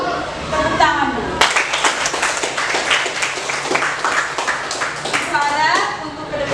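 A class of eighth-grade schoolchildren claps hands together in a dense, rapid burst of applause lasting several seconds, close and loud, with a teacher's voice speaking before and after.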